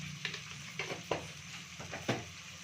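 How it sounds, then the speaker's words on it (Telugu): Salt being stirred into tamarind pulihora rice, giving soft scraping and stirring strokes with a few sharper spoon scrapes against the pan, near and moderately loud with no talking. "కొంచెం సాల్ట్ వేసుకొని కలుపుకోవాలి"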